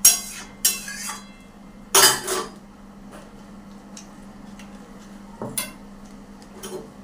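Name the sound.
stirring potato-pointed gourd kofta mixture in a pan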